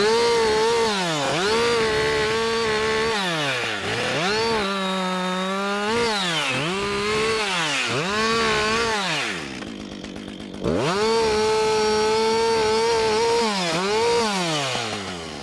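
A chainsaw cuts through a log with loud, close engine revving that rises and falls repeatedly as the bar bites in, dropping briefly to idle partway through before the cut resumes.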